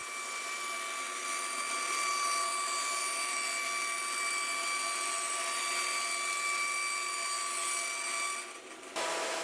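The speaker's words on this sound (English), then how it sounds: "Slice that into strips of about 150 thousandths thick." A continuous, loud power saw cuts walnut into thin strips, its bright rasping whine holding evenly for several seconds before a brief dip and pause near the end, with no talking.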